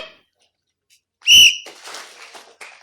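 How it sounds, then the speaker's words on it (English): A single loud, sharp whistle bursts out after a quiet stretch, followed by faint, scattered background noise. "I'm going to whistle and I want you to clap when I whistle."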